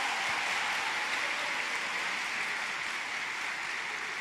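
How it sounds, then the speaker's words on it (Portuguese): A church audience at a sermon applauds in a steady, even wash of many hands clapping, moderately distant and continuous with no voices on top. "Pode aplaudir, pode aplaudir."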